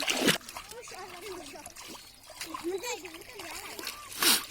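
Village children splashing and playing while swimming in water, with sharp splashes at the start and end and children's voices calling and chattering throughout.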